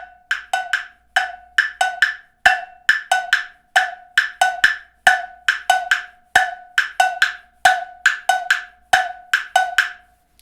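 A 3-over-2 polyrhythm played as crisp percussive clicks against a 2/4 pulse, two interlocking patterns repeating steadily and evenly for about ten seconds, close and clear with no voices.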